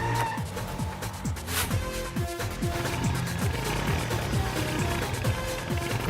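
A motorcycle makes a film entry with skidding, squealing tires over a loud, continuous engine roar and repeated sweeping revs, with no speech.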